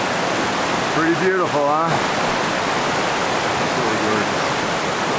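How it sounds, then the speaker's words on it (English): A river rushing at a backcountry crossing on the Four Pass Loop near the Maroon Bells in Colorado, a steady broad roar of water throughout, with a short spoken remark early on. "here's the scene looking back towards camp from the river crossing"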